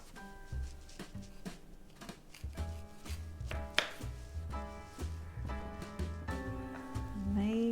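Knife cutting a few slices of squash on a board, soft irregular thuds heard faintly beneath steady background music.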